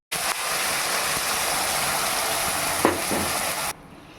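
Loud, steady sizzling of ground paste frying in hot oil for tomato kuzhambu, continuous for several seconds with a brief stir partway through, then cutting off to a quiet hiss.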